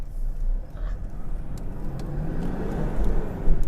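A Toyota Vigo Prerunner pickup with a 3.0 engine pulls away and accelerates through its gears, a steady, close engine drone with rising revs and a brief surge near the end.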